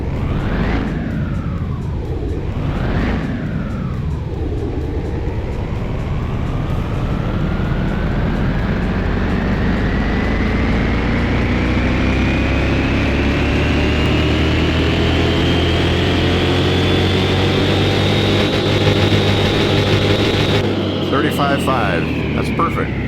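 A car engine on a dyno in Car Mechanic Simulator 2021 blips twice, then winds up steadily through a long, loud, continuous rise in pitch before cutting off abruptly near the end.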